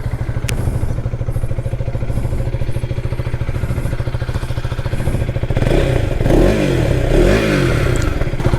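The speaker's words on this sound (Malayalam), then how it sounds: "ഇതിൻ്റെ എക്സോസ്റ്റ് നോട്ടൊന്ന് ഏൽപ്പിച്ചു തരാം" A KTM Adventure 250 motorcycle idles with a steady, even exhaust thrum, then blips the throttle in a few short revs that rise and fall near the end, loud and close with no talking.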